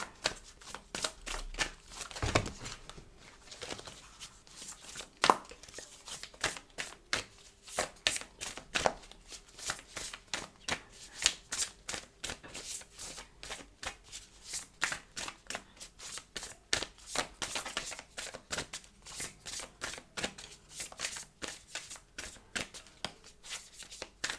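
Tarot cards are shuffled by hand in a quiet room, giving a long run of soft, quick riffling and slapping bursts in uneven rhythm, close and faint, with no talking.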